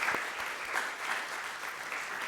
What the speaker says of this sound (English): Let's give our panel a big round of applause